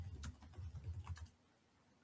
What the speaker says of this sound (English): there's nothing inherently wrong with just typing this example in as it is into PubMed